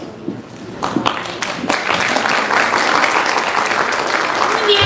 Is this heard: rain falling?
no